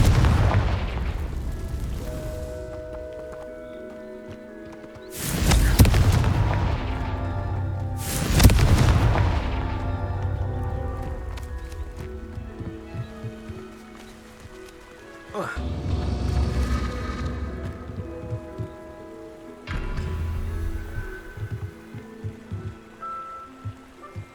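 Confringo blasting spells explode in Hogwarts Legacy gameplay: four loud booming blasts at irregular intervals, each with a sharp onset and rumbling decay, over a musical game score.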